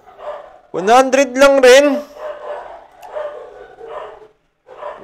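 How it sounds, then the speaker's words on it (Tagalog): Dogs bark nearby in a loud, drawn-out burst of howling yelps, then quieter intermittent barks follow, mixed with people talking. "Ingin ng mga aso."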